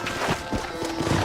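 Horse hooves clopping in the Red Dead Redemption video game, a few irregular close thuds with snorting and a short whinny, loud and short with no talking.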